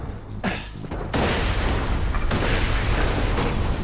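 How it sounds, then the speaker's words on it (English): Mortar fire booms in the video game Borderlands 2, heavy blasts and rumbling explosions building into a loud, sustained barrage after a sharp opening hit. "So that's where the mortars come from."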